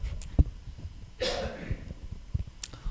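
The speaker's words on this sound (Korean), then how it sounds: "큰일 나는데 기침해서 큰일 났네요" A single throaty cough from a person with a tickling throat after a drink, one short burst standing out against quiet indoor background noise, no speech.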